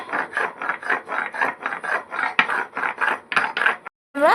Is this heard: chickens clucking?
no